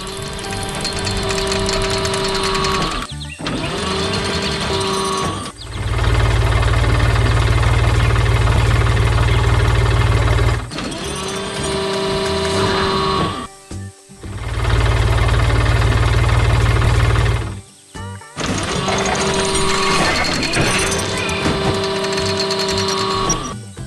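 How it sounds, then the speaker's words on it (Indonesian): A blue tractor engine chugs loudly near a colourful flower garden, surging and dropping in several bursts with brief pauses between them, alongside musical, cartoon-like tones. "Lihat traktor biru yang sedang bekerja keras di tengah kebun bunga yang ceria"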